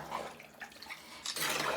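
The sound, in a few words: water poured into beef curry pot for cooking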